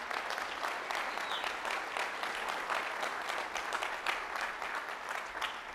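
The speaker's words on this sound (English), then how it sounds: "Give them a round of applause." Audience applause at a school district State of the Schools event, dense and continuous clapping from a large room that holds steady from start to finish with no voices over it.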